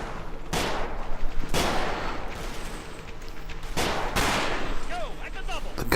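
Machine gun area fire in the Combat Mission video game sounds as several sharp, loud gunfire bursts spaced about a second apart over a low battlefield rumble, with a faint whistle near the end.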